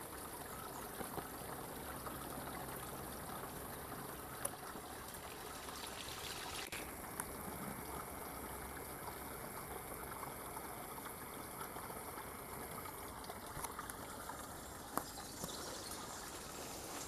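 A small stream runs beneath an earth bank and out into an old ditch, producing a faint, steady, hissing trickle that continues unbroken with a few soft ticks and no voices.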